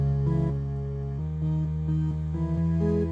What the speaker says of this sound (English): it fades into like a synth thing, which just sounds like this.